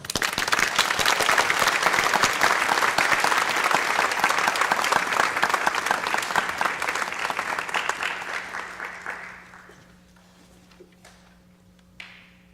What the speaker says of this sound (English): How we can give them all a round of applause.